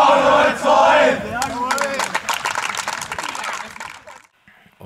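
Amateur football team shouting together in a celebration circle after a match, a loud group chant and yell up close, followed by scattered clapping and cheers that fade out before a brief quiet end.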